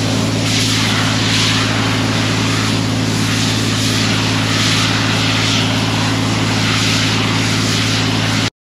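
Compressed air blasts loudly and steadily through combine harvester engine filters, a harsh continuous hiss over a low humming drone.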